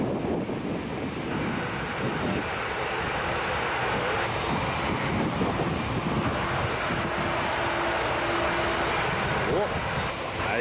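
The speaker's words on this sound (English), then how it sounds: "There's a Flare Max 8 after the Dashy, and that one's going to Calgary." A passenger airliner at Toronto Pearson airport, a Dash 8 or Max 8, produces a steady loud engine roar that fills the whole stretch without letup, heard from a distance across the field.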